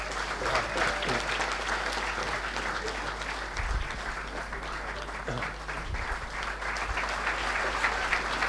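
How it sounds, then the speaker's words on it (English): A large audience gives a sustained round of applause welcoming Rana Kapoor, banker and founder-CEO, onto the stage; continuous dense clapping at even strength throughout, with a low steady hum underneath. "Please welcome Mr. Rana Kapoor with a huge round of applause"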